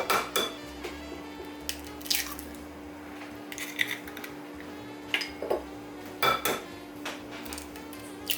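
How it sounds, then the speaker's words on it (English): Two eggs being cracked into a bowl: a few sharp, close taps and wet squishes and drips, spaced irregularly over a quiet kitchen background with no talking. "You're going to crack 2 eggs into the bowl."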